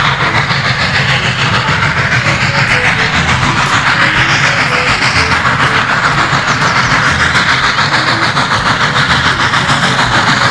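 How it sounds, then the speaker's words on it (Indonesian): A steam train rumbles steadily with a loud, continuous hiss and rattling clatter, no pauses, filling the whole stretch. "Wah, ini kereta api uap."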